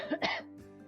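One short, quiet cough or throat clear close by, followed by a low murmur.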